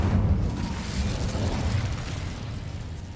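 An Incendio fire spell cast in the Hogwarts Legacy video game gives a loud, continuous roaring burst with a rumbling low end that holds for a few seconds, with no speech.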